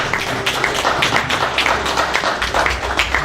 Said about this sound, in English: Give Mr. Hill a round of applause